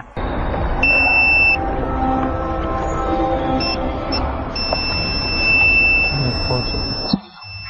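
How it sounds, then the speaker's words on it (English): K68 camera and GPS detector alarming on finding a hidden tracker in a vehicle: loud sustained electronic beeping tones over a constant hum, with the alarm continuing for several seconds before stopping abruptly near the end. "The detector is alarming here."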